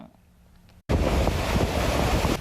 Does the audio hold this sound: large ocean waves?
yes